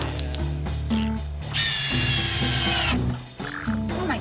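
A power drill whirs and whines loudly, its motor pitch shifting up and down in bursts, close by with no talking.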